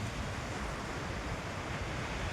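Sea waves rolling onto the beach at Visakhapatnam, a continuous soft wash of surf with wind noise, distant and faint, with no speech.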